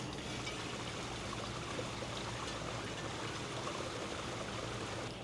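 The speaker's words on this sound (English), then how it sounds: "I'm gonna drain my gray tanks just to get all of that nasty black water out of my hose" Gray waste water from an RV tank rushes steadily through a drain hose, a continuous, even gushing flow with no pauses.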